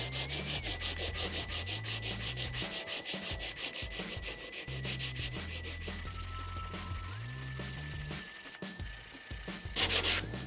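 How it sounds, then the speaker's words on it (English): A scrap of 60 grit sandpaper is rubbed by hand over cured two-part wood filler, giving close, rhythmic back-and-forth rasping strokes in a steady run with no talking. "I'm just going to show you with a scrap of 60 grit here, just to show you how easy this sands"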